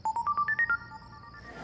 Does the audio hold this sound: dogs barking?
no